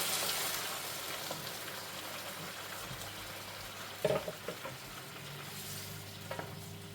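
Steady frying sizzle from food in a hot pan, with a few sharp clinks and scrapes of stirring partway through; fairly quiet and close.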